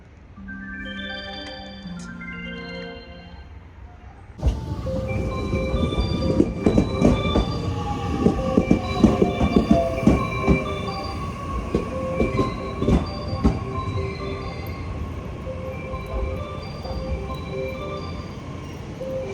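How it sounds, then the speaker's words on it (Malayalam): A train arrives at a station in Japan in autumn: a short melodic chime plays, then a loud rumbling approach with squealing wheels, clattering rail joints and a drawn-out screech as it slows at the platform. "അപ്പം നമ്മുടെ ട്രെയിൻ അങ്ങനെ വന്നിട്ടുണ്ട് കേട്ടോ"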